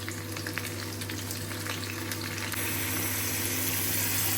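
Onion and garlic fry in a pan with a steady, close sizzle that grows fuller and louder partway through, over a low constant hum, with no talking.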